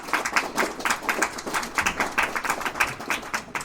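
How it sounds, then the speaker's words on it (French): Applause from an audience at a National Rally political meeting in Belfort, heard as a steady run of separate hand claps from a modest crowd, moderately loud and without talk over it. "on t'applaudit encore"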